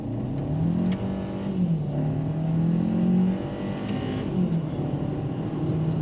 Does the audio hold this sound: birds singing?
no